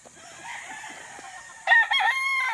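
A young gamecock stag crows once, near and fairly clear, after a brief stretch of quieter background clucking and farm ambience.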